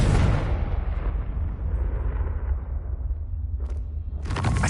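A Confringo blasting spell explodes in Hogwarts Legacy with a loud, close boom that decays into a long rumbling tail, followed by a fresh burst of noise at the end.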